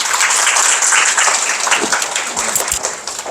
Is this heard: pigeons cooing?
no